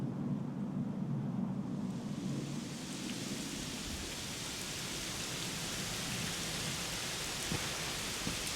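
Heavy rain pours in Dragon Quest XI S, a steady broadband hiss that swells after a few seconds into a dense, continuous downpour with low rumbling underneath, no voices.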